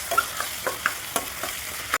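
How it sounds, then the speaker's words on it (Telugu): Ridge gourd pieces sizzle in oil in a pan with softened tomatoes, a short close frying hiss punctuated by several light utensil stirs and scrapes. "బీరకాయ కూడా ఆయిల్లో మగ్గించుకోవాలి."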